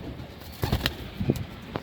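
Ferozpuri pigeons coo in a few short, soft bursts close by, over a low background hiss with no talking.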